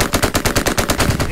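Rapid automatic gunfire in Hell Let Loose, a loud, close, continuous burst of evenly spaced shots with no pauses.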